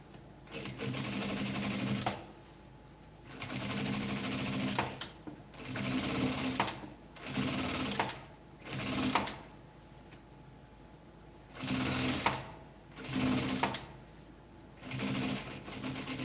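Domestic sewing machine stitching fabric for a patchwork scrap basket, running in repeated bursts of a second or two with short pauses between, close and fairly loud, with no talking.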